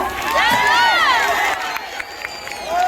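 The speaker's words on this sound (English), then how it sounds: "Can we have more claps?" A concert crowd at the Bhadrayani 2023 Bhadrak district festival cheers and claps loudly and continuously, a dense wash of crowd noise with whoops, under amplified sound.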